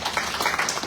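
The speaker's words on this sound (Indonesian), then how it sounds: "Berikan tepuk tangan untuk Tuhan." A church congregation claps together in a brief, dense burst of applause lasting under a second.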